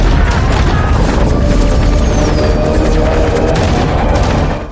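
Dense gunfire barrage against dive bombers in a WWII film battle scene: continuous loud booms and fusillade rolling together without a break, heavy and near throughout, ending with a brief drop in level.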